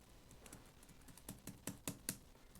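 Keystrokes tap on a computer keyboard, a brisk run of a dozen or so distinct clicks that grow louder and more spaced toward the end, close and alone without talk.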